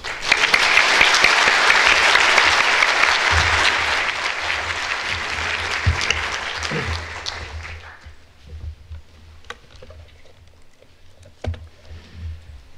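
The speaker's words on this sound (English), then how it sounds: "We should still applause." Conference audience applause, a dense, loud burst of clapping that carries on for several seconds and then thins into scattered claps and faint room noise.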